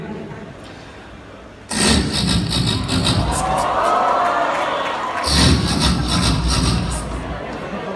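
A performer vocally imitates an old motorcycle struggling to start on a college stage, with two loud sputtering bursts over crowd noise and cheering.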